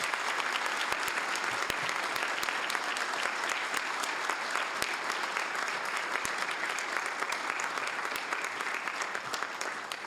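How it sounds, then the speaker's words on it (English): Sustained round of applause from the audience at a city council meeting after the Pledge of Allegiance, steady dense clapping with a few sharp individual claps standing out, lasting the whole stretch. "Ladies and gentlemen, let's give Ariana a big round of applause."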